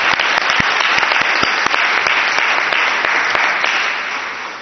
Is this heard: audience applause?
yes